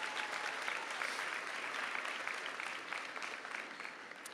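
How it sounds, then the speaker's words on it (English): At a 2019 South Johnston High School graduation, the audience gives parents and guests a big round of applause, a continuous dense clapping that stays fairly even before easing slightly. "Let's give them a big round of applause."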